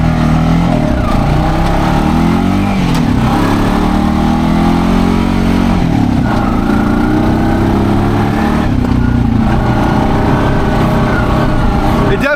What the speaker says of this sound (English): put it in four-wheel drive here, cross this crap, put it into low gear, aka first